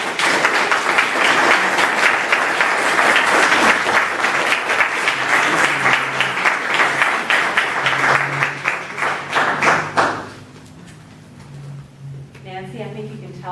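An audience at an evening poetry remembrance event bursts into loud, sustained applause after a poem reading, dense clapping that thins and fades out after about ten seconds, followed by quieter room sound.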